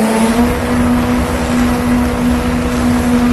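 A drag racing car engine held at a loud, steady high-revving drone at the start line, close and continuous with no talking.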